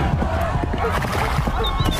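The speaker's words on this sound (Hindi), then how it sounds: "तभी वहाँ पर कलुआ डाकू अपने साथियों के साथ घोड़े पर बैठकर आ गया।" Horses ridden by a band of bandits arrive in a Hindi animated story, their hooves clip-clopping steadily under a busy mix of music and sound effects.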